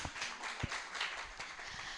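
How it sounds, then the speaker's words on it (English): Audience applause at a golf tournament celebration event, a short steady patter of clapping from a crowd with a few sharper individual claps standing out. "can y'all give her another round of applause"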